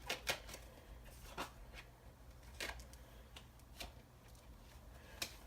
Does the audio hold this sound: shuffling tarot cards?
yes